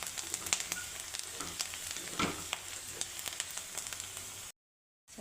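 A finely chopped medium onion sizzles steadily in hot oil, with close crackles and occasional sharper pops, before the sound cuts off briefly near the end.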